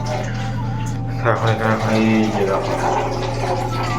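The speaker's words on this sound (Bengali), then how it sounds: "জল ভরা চলছে" Water runs steadily into plastic bottles at home late at night, a continuous filling stream under a low steady hum with a rising gurgle midway, while a voice speaks over it.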